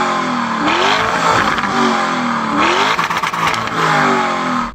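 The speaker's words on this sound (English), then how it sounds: "Go on, rev it up." Lamborghini Urus Performante SUV engine revved hard twice, each rev sweeping up to a loud roar and falling back, with crackle between bursts; close and loud, no talking.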